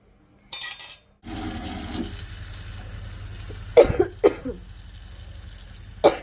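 Someone coughs three times in sharp, close bursts over the steady rush of running tap water filling a sink, with a brief clatter at the start.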